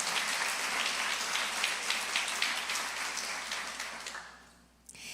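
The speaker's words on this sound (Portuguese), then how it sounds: "Vamos aplaudir a Jesus, Ele é o nosso alvo." A church congregation applauds together, a dense, even wash of many hands clapping that stays full and steady, then thins and fades out toward the end, with no voices.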